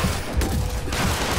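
Rapid gunfire in Marvel's Spider-Man on PS4, dense loud bursts of shots and impacts packed closely across the moment, with no talk over it.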